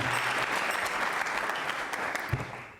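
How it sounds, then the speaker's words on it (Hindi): A quiz-show audience at a Hare Krishna Mission event bursts into steady, dense applause, clapping continuously for a few seconds before tapering off. "गिरीश जी के लिए तो देखिए तालियां बजाइए साहब"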